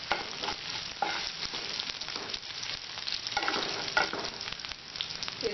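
Curry leaves, green chillies and chopped ginger stirred in hot oil in a pan, a steady close sizzle with repeated scraping stirs of the spoon, no voices.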